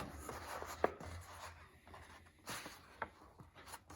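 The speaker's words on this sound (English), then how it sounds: "So you're simply gonna fold the paper over so there's about 2 inches down here" Sheets of paper are folded over to make a moon-phases foldable, with faint rustles, rubs and crisp creasing swipes close by, quiet and with no talk.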